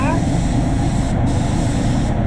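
Loud, continuous hiss of a spray gun laying basecoat on a Subaru Outback at about 2 bar, a steady close-up air rush with a couple of brief gaps near the end.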